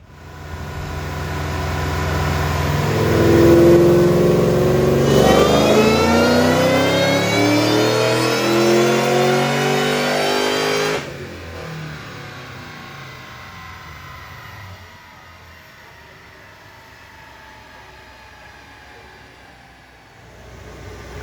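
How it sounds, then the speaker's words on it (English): A mostly stock, tuned early Ford Mustang GT500 Convertible on a chassis dyno revs loudly up through the gears to about 6,100 RPM, its engine note climbing steadily, then cutting off and settling into a lower idle-like rumble. "Let's watch this one roll."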